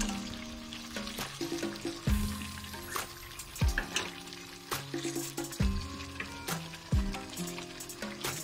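Whole spices tipped into a hot pan of oil for masala biryani, crackling and sizzling steadily up close, with clinks and stirring knocks of a utensil against the pan throughout.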